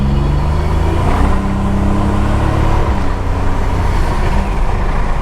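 The turbocharged engine of a 1987 Buick Turbo T pulls hard under acceleration, a loud and close droning roar that builds steadily with no talking.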